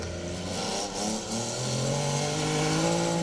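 A Datsun rally car on a special stage, its engine note climbing and shifting as it revs hard, loud and close, with rising harmonic tones running throughout and no one talking.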